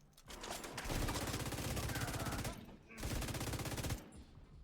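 Sustained automatic gunfire in the video game The Division 2, two loud dense bursts of rapid rifle shots separated by a brief pause, close and dominant.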